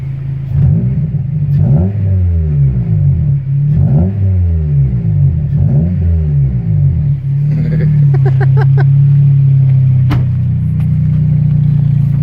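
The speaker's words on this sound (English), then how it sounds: "I'll punch the throttle so you guys can hear it" A car engine fitted with a new open-tube muffler revs hard in three loud rising-and-falling pulls, then settles into a deep, loud idle rumble with a few clicks near the end.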